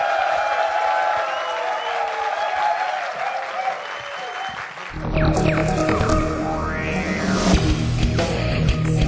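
Audience applause welcoming a speaker to a talk concert, steady clapping for about five seconds before louder music with heavy bass takes over.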